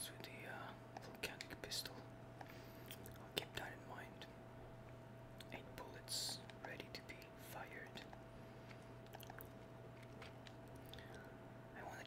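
A salty snack is chewed close to the microphone, with soft crunching and wet bites alongside quiet whispering. Faint ambience from the Red Dead Redemption video game plays underneath.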